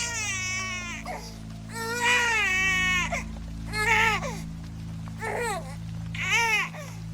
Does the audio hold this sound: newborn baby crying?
yes